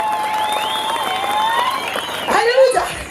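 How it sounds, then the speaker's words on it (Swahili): A church congregation claps in a broad, continuous wash of applause, with a loud voice ringing out over it and the clapping swelling near the end. "Wapi makofi ya Mungu?"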